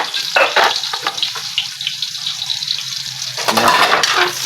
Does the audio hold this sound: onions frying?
yes